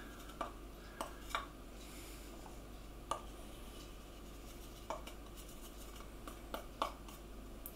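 A wooden spoon stirs broccoli and cauliflower in a glass bowl, giving soft, irregular clicks and knocks against the glass over a faint steady room hum, close and quiet.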